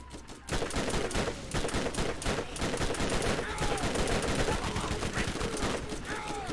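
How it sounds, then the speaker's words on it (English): Rapid, dense gunfire from the video game Borderlands, sustained bursts of loud shots filling the whole stretch with little pause, with a voice mixed in beneath the shooting. "Stop shooting me."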